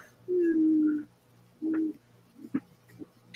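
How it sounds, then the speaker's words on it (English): A pigeon or dove coos loudly and close by, with two long, droning coos followed by several shorter, softer calls. "that bird is loud"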